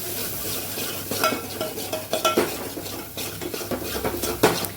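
Turmeric, red chilli powder and sambar masala are stirred into sizzling oil in a pan for South Indian sambar. A steady, loud hiss sits under repeated scraping and clinking of a spoon against the metal, close by and without speech.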